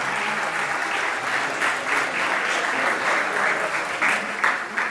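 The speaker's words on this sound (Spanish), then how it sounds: "Más fuerte el aplauso para estos novios." Wedding guests applaud the newlyweds, a dense, steady wash of many hands clapping together, loud and sustained without a break.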